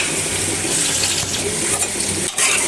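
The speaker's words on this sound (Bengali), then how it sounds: "এখন আমি এই যে ঝোল দিয়ে নিব, বেশি দিব না, অল্প দিব।" Chicken curry broth is poured into a hot pan with shrimp and okra frying, a continuous loud hissing splash lasting a few seconds, close up and alone.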